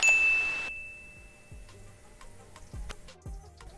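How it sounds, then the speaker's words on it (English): A bright notification bell dings once and rings out for under a second, followed by quiet ticking and soft knocking sounds. "ring that bell so you never miss a video again"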